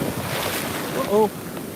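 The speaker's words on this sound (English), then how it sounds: "Just got a big wave came up, got my leg wet." Big ocean wave washing up a beach, steady broadband surf wash with wind buffeting the microphone, swelling briefly louder near the end; a faint voice-like sound rises partway through.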